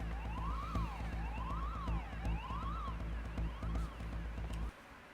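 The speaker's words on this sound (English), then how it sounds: "That's an annoying alarm." Annoying alarm ringing inside a security lab complex, a loud warbling electronic siren cycling up and down repeatedly with a low droning hum beneath, cutting off abruptly near the end.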